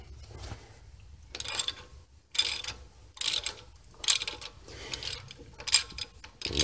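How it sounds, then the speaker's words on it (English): Half-inch ratchet driving a T30 bit through a 1/2 to 3/8 adapter on the front brake caliper of a 2008 Mercedes-Benz S550 4Matic, in a series of short, close clicking bursts separated by pauses. "So I'm using a 1/2 inch ratchet."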